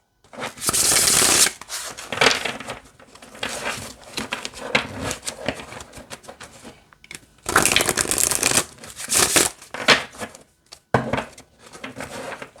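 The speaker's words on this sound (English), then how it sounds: "And it shuffles nice with the overhand too." Repeated bursts of a deck of cards being shuffled overhand, crisp riffling flutters separated by short pauses, close by.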